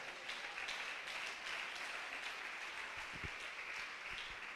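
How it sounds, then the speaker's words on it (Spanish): Applause from a church congregation fills the space with dense, steady clapping throughout, a broad wash of many hands with no pauses and no one speaking over it. "¿Por qué no le das un aplauso al Señor?"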